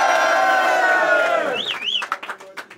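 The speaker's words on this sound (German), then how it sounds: "nochmal ein extra Applaus für diese Leistung" A loud crowd cheers and roars at an a cappella rap battle, a sustained wall of shouting voices that breaks into scattered whoops and claps as it fades.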